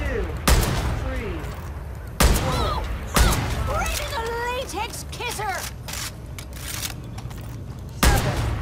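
Balloons getting shot and popped in the video game Far Cry New Dawn: several sharp gunshot-like pops spaced a second or more apart, with whistling and chirping game sounds in between and a steady background bed.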